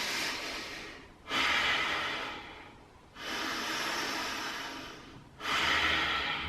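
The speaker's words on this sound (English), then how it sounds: "Let's do 2 more breaths on this side." Slow, deep breaths taken while holding a yoga warrior pose, three long airy inhale-exhale cycles, close and fairly loud, with no talking.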